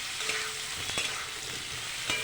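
Boiled potatoes fry with onions in a pan, a soft continuous sizzle broken by a few scraping stirs of a spatula, fairly quiet and without talk.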